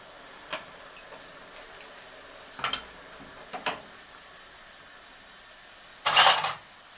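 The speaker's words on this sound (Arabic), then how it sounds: "وهنقلبها تقليبه كويسه" Fatteh tomato sauce for cow-trotter fatteh being stirred in a pan: a few sparse spoon taps and clinks against the metal, then a brief louder burst of scraping and sizzle near the end.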